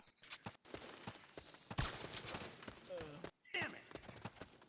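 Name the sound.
gunfire in video game Metal Gear Solid 4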